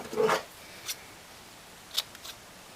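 Scissors trim ruched ribbon for a stamped craft bow: one crisp cut at the start, then two or three fainter, quicker snips against a quiet room.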